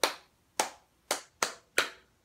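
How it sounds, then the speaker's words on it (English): Five sharp, separate hand claps in a quick, slightly uneven rhythm during a children's Bingo sing-along, close and clear against silence. "let's clap 1, 2, 3, 4 times"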